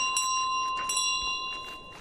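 A bicycle-style bell carried by the goose in Untitled Goose Game rings in several quick, bright jingles, each a sharp metallic chime with a lingering tone, fairly close and with no talking.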